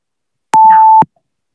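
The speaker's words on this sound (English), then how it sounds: "Your timer starts." A single clean electronic beep lasting about half a second marks the start of a quiz timer in an English grammar quiz, loud and alone, with short clicks at its onset and end.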